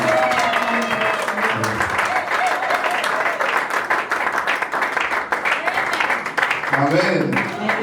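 A church congregation applauding and cheering for Jesus, sustained dense clapping from a crowd with a voice speaking over it and a few raised voices near the end.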